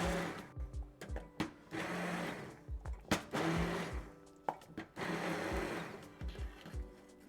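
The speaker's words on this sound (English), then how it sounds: "And now we can properly blend." A kitchen blender purees hot cauliflower and potato soup in short bursts, its whir rising and cutting off repeatedly with knocks and pauses between pulses.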